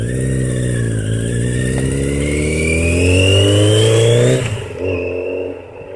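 A Yamaha XJ650 Seca Turbo motorcycle engine revs, its steady rising drone climbing in pitch for several seconds before dropping off, loud and close with no voices.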